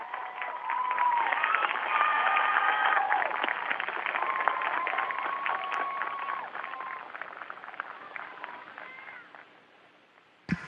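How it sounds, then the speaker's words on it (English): Classroom of schoolchildren applauding visiting astronauts, dense clapping mixed with excited young voices and cheering, steady for several seconds then tapering off toward the end. "Boys and girls, can we give them a huge round of applause?"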